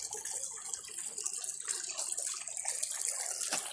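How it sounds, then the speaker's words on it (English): Water pours steadily from a tap in a continuous close gush, washing mud off a fossil found in Ohio. "Let's wash that off."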